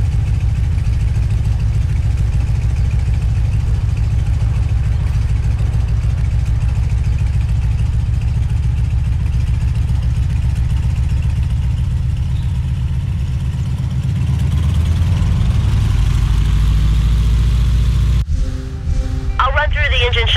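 Aircraft engine idling in the Microsoft Flight game, parked by a hangar: a loud, steady low drone holds for about eighteen seconds, then gives way to brief tonal sounds near the end.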